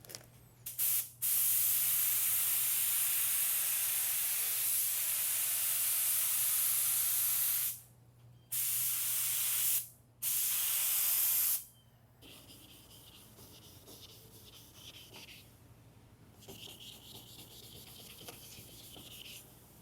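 Loud bursts of hissing spray from a nearby spray can painting a Pontiac GTO, several long blasts separated by brief pauses, then quieter rubbing and scraping.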